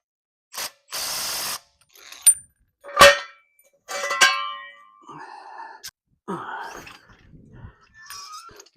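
Torquing lug nuts on a 2017 Chevrolet Silverado makes short ratchet clicks, a few metallic clanks and a sharp ding, all close and scattered across a quiet workshop.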